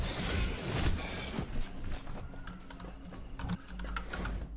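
Someone types on a computer keyboard while gaming: fast irregular key clicks and taps, close and moderately loud, some strikes heavier than others, with no speech.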